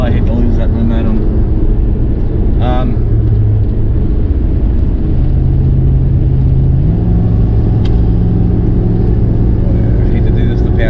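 A vehicle nicknamed Panda laboring uphill in second gear on a road from Oregon into California, a loud steady engine drone and rumble that shifts pitch as it strains, with talk over it.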